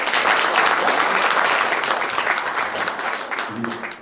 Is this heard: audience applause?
yes